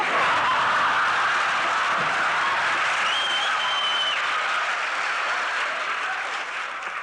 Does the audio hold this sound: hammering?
no